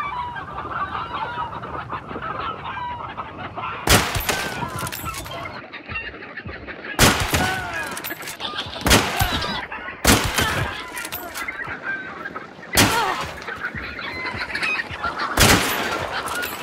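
Chickens clucking inside a cage in the video game Hunt: Showdown, a steady mass of close fowl clucks and squawks with several loud, sudden bursts of flapping and squawking spaced through.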